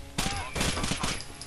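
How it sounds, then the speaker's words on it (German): Video game gunfire in Rainbow Six Vegas 2: a rapid burst of close, loud automatic shots in quick succession, with a brief pause before another volley. "Ich glaube, er hat einen Schuss abgegeben."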